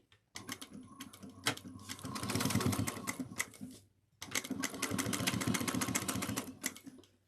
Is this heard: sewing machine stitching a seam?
yes